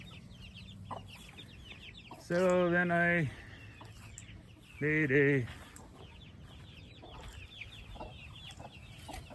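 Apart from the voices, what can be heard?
chickens clucking in a chicken run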